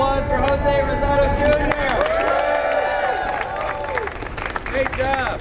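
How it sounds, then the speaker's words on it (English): Crowd clapping and cheering at an outdoor protest rally against New York City library budget cuts, a steady mass of applause with whoops and voices layered throughout, fairly loud and close, persisting for the whole stretch. "Another big round of applause for Jose Rosado"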